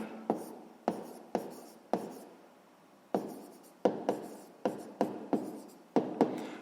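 Pen strokes scratch across paper as a math check is written out by hand, about a dozen short, distinct scrapes in quick uneven succession, close and quiet with no other sound.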